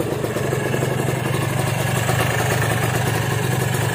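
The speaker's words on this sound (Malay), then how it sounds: "Okay guys, motor masih hidup." A Kawasaki KRZ motorcycle, started after sitting unused for three years and apparently flooding from the carburetor, idles with a steady low engine rumble and rapid mechanical clatter, close and continuous, no talk.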